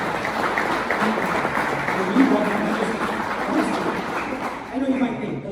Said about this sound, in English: How about a round of applause for it?